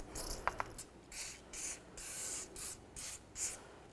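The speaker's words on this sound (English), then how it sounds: "let's use a little bit of penetrant and spray the areas on the rotor that connects to the hub" Short bursts of penetrant sprayed onto the rear brake rotor where it meets the hub of a 2008-17 Buick Enclave, about six hissy puffs in a rough rhythm, close and fairly quiet, with a couple of small taps near the start and no talking.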